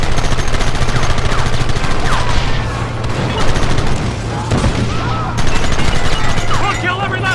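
Rapid gunfire from a Red Dead Redemption shootout, dense overlapping shots and volleys continuing throughout at close range, with shouting voices and a steady droning tone underneath.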